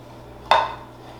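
Vanilla pound cake batter being spooned into a Bundt pan for a marble cake, heard as a single close clink of spoon against the pan in an otherwise quiet kitchen.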